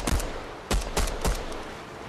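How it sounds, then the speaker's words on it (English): Pistol shots in the video game Fortnite, four sharp, loud reports in an uneven sequence over roughly a second and a half, each with a quick decaying tail over steady game noise. "Nice shot with the pistol."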